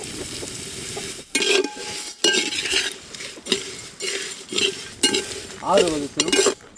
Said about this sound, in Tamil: கழுகி ஊற வச்சு காய வச்ச அரிசியை வறுக்கிறதுக்காக சேர்த்துக்க போகிறோம்